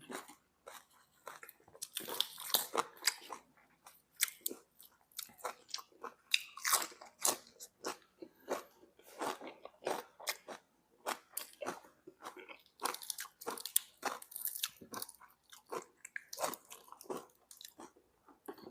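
Crispy fried mountain shrimp being bitten and chewed close up, with sharp, irregular crunches repeating throughout and no talk over them.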